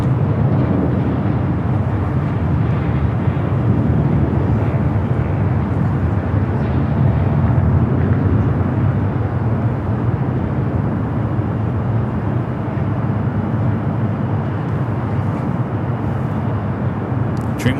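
A Boeing 787 Dreamliner jet taxis across runway 24 left at Los Angeles airport, giving a steady, loud, broadband engine rumble that holds evenly throughout with no break.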